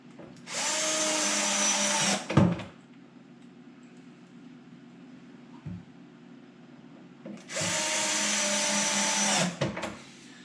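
A power drill driving screws into a cabinet drawer bracket, two loud, close whirring bursts of about two seconds each, separated by a quiet pause with small clunks.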